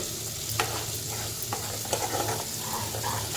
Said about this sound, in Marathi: त्याला साधारण दोन ते तीन मिनटं असंच परतून घेऊया